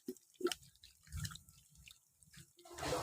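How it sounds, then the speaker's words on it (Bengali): Water poured over potatoes and browned meat in a cooking pot, heard as a few scattered drips and splashes followed by a rising pour near the end, close and fairly quiet. "জল দিয়ে দিচ্ছি।"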